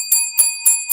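A bright metallic bell rings four times in quick, even succession, loud and close with a sustained shimmering tone and no voices.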